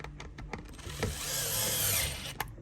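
Phillips screws driven back into carbon fiber seat cover trim in an Acura NSX, a close power driver whirring in short bursts with clicks and ratcheting between runs.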